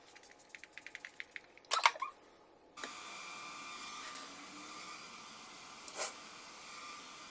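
A MAC Fix Plus makeup setting spray gives a soft, quiet mist: a faint steady hiss with a short spritz, preceded by a few light clicks and taps of handling.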